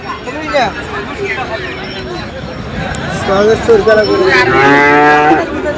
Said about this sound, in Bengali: এ পাশে আর একটি বড় গরু নিয়ে যাচ্ছেন ভাই।